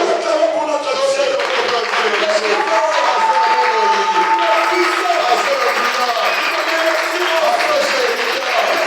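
A church congregation claps and cheers in sustained applause, with voices and singing mixed in throughout.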